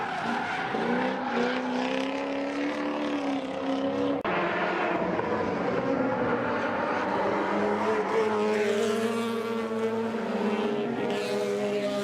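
Race cars at the Tony Rust Raceway near Windhoek roar around the track, engines whining and rising and falling in pitch as they pass, with tire squeal mixed into a loud continuous wash of motor noise.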